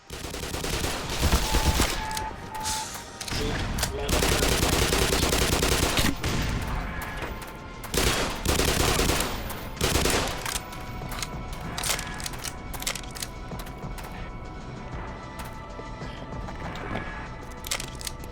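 Rapid automatic turret gunfire in Black Mesa, loud, dense bursts of shots rattling almost continuously with brief gaps, close and harsh.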